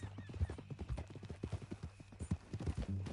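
A horse's hooves clip-clop in Red Dead Redemption 2, a brisk, close, rhythmic run of hoof strikes that carries on throughout, with faint voices mixed in.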